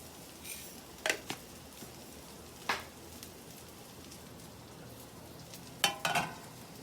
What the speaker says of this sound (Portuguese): Vou entrar com arroz.